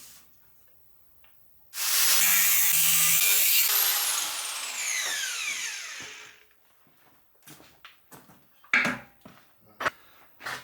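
A metal fly press tool being cut off with a loud, harsh, continuous cutting roar lasting about four seconds that fades out, followed by a few scattered clanks and knocks in a quiet workshop.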